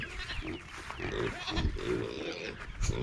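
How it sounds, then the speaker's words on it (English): Pigs on a homestead farm at evening feeding time grunt and snort in a rough, continuous stream, with a busy mix of nearby animal noises throughout. "You can hear the pigs."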